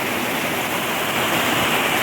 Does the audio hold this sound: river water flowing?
yes